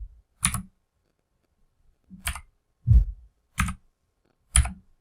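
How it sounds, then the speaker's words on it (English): Five separate sharp key clicks on a computer keyboard while an ID card number is entered, each press crisp and close, spaced about a second apart with silence between. "So I'm just going to write in the ID card number."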